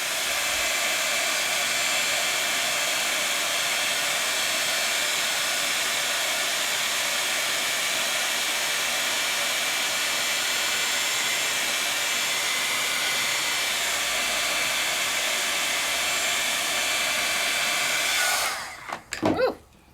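A heat tool runs continuously with a loud, steady blowing hiss while heat-setting craft ink, close and unbroken for most of the time before it switches off with a brief clatter.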